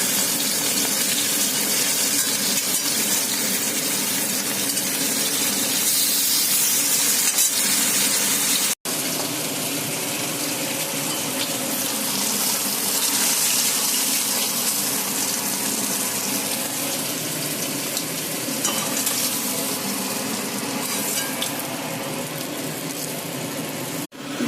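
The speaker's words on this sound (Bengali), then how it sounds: "ইলিশ মাছ এখন ভাজা চলছে" Hilsa fish pieces coated in salt and turmeric fry in a pan, giving a steady, loud sizzling hiss that runs continuously, with one brief dropout partway through.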